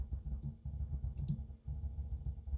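Command typed on a computer keyboard while configuring Kafka brokers, a quiet, steady run of close key taps over a constant low hum.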